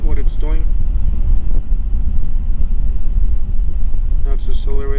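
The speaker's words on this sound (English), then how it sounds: "You guys hear the truck accelerating" A truck engine accelerating, with a continuous deep, loud rumble and some wind buffeting on the mic. A voice comes in briefly at the start and end.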